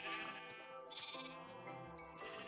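Sheep in Minecraft on Xbox 360 bleat several times in quick succession, close and clear, the wavering nasal calls overlapping with little else around them.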